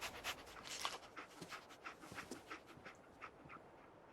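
The dog Dogmeat in the video game Fallout 4 sniffs and pants quickly and steadily, a soft close breathy rhythm that stays faint throughout.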